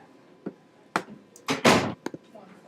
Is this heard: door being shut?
yes